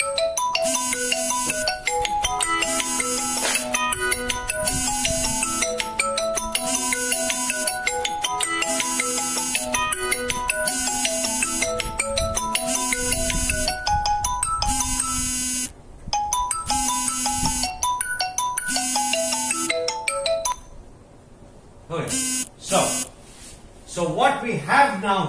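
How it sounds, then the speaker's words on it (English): A mobile phone ringtone plays a repeating electronic melody for about twenty seconds in a lecture room, loud and steady, then cuts off into brief faint noises. "I forgot to put it on the airplane mode, so I will wait for the phone to die out."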